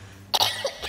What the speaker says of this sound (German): ich hatte gerade Hustenkrampf